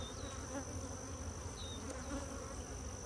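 Honey bees buzzing at a hive in a cow pasture apiary: a dense, continuous close hum of many bees, with individual bees whining past now and then; no talk.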